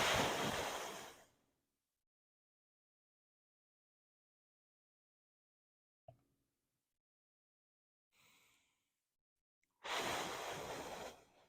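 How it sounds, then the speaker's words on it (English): A slow, deep inhale during a gentle spine-rehabilitation breathing session, heard as a broad airy rush at the start and again near the end, with a brief faint breath sound between and silence around them. "Deep breath in"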